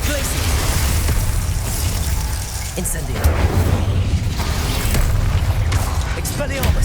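Spell blasts in Hogwarts Legacy from a steady barrage of magical combat: booms, pops and bursts pile up continuously and loudly, with a voice speaking over the din throughout.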